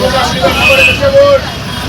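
Inside a moving bus, engine and road noise hum steadily beneath nearby chatter and a murmur of passengers' voices.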